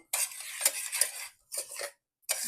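Melted butter, milk and brown sugar stirred together in a pan for a frosting: three close bursts of scraping, clinking spoon-on-pan stirring separated by short silences.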